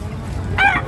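A native rooster at a Baliwag, Bulacan poultry spot giving a short, near cluck-like call over low background noise.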